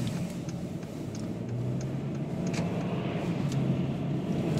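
A car rolls along in steady traffic on a town road in Jackson, Wyoming, with a continuous low engine and tyre rumble and a few faint clicks above it, close and moderately loud throughout.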